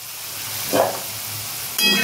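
Potatoes deep frying in hot oil give a steady close sizzle throughout, with a brief louder crackle midway and a surge of bubbling near the end, no voices.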